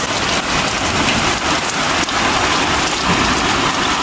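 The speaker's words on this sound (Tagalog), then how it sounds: "Lakas ng ulan guys eh." Heavy rain pours steadily and loudly, a dense continuous hiss of drops drumming on surfaces with no pauses.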